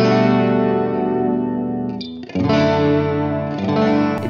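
Electric guitar played through a chorus effect with a short delay added, giving a wide, shimmering stereo tone; sustained chords ring steadily, briefly thin out near the middle, then swell again with fresh strums, alone with no talking.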